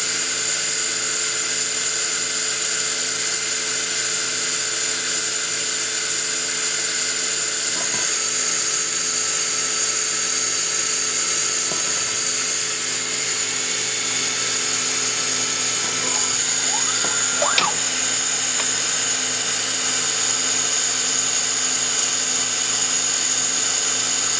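A 2008 Citizen R07VI CNC Swiss lathe spindle turns at about 3,000 RPM, heard up close as a steady, high, drill-like whine with a constant machine drone and a few faint transient squeaks.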